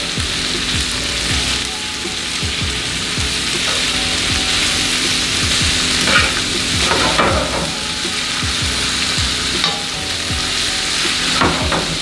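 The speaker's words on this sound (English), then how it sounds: "you wanna get the veggies nice and sauteed, translucent" Vegetables sauté in a hot pan with a loud, continuous close sizzle, broken by frequent scraping stirs and the occasional knock of a utensil. No one speaks.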